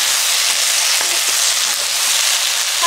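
Eggplant, onion and bell pepper sizzle steadily in a hot pan, a loud, close, unbroken hiss with faint stirring clicks and no voices.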